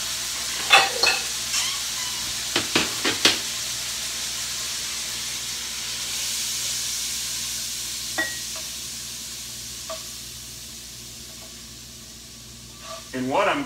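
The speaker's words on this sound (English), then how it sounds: "take the meat out of the skillet." Ground beef in a skillet gives a soft, steady sizzle while it is lifted out, with a few sharp scraping clicks of the utensil against the pan, and occasional speech over the frying.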